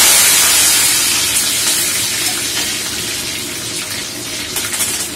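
Mustard seeds and curry leaves sizzle in hot oil, a loud, steady hissing crackle that starts strongest and eases slightly, with small pops near the end.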